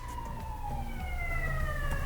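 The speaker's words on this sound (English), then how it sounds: "Damn sirens." Emergency vehicle sirens wail outside, steady rising and falling tones heard at a moderate distance under low background noise, with a faint traffic hum beneath.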